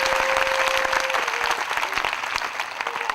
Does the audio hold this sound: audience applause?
yes